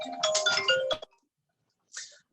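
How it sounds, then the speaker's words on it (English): A mobile phone ringtone plays a loud, bright melodic phrase of several tones, goes silent, then sounds again briefly about a second later. It rings indoors during a talk on managing stress. "I didn't realize I left my phone on."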